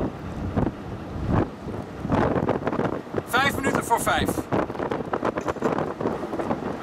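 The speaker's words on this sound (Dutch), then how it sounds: "We merken dat de wind hier is toegenomen." Strong wind of about force 5 at sea aboard a ship sailing out of Lauwersoog, gusting and buffeting the microphone in loud bursts while a person speaks over it.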